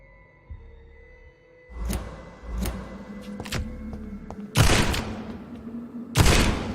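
Gunfire in the video game Vampyr: several sharp broadband shots, a few separated blasts and then two heavy bursts near the end, over a low droning game backdrop.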